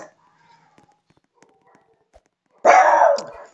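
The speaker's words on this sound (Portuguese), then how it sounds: "Ô cachorro!" A dog in the Roblox game Murder Mystery 2 gives one loud, close bark near the end after a few quiet ticks and clicks.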